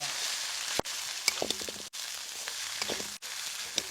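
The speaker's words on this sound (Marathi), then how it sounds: "मसाला चांगला परतून घ्यायचा." Ground masala fries in oil in a kadhai for a Mumbai-style country chicken curry, a soft steady sizzle with faint crackles and a few stirring scrapes, heard alone.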